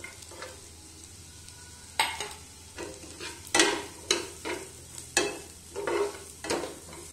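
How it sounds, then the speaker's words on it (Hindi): Chopped onion frying with garlic and chili in a pan for a matar paneer pie, a steady sizzle broken by repeated stirring scrapes and clatters at irregular intervals, close and moderately loud, with no talking. "अब हम इसमें एक बारीक कटा बड़ा प्याज डालेंगे।"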